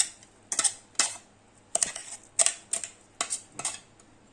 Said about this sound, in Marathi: तर चला साहित्य मिक्स करूया.